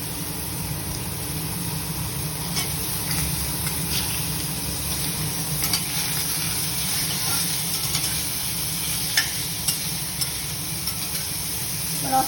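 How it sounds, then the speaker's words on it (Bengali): Eggplant slices soaked in turmeric water are dropped into a pan with lightly fried potatoes, giving a steady low sizzle and crackle of frying oil that continues evenly throughout, with no talking. "এবার এর মধ্যেই আমি বেগুনগুলো দিয়ে দিচ্ছি"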